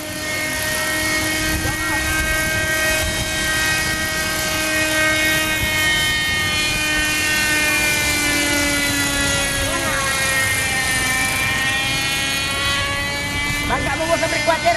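Steady close buzz of a radio-controlled model helicopter's rotor and motor at a port, its pitch rising and falling as it hovers and sets down, with shouting voices over it.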